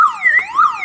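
A car alarm siren wails loud and close, its pitch sweeping up and down in a fast warbling cycle for under a second.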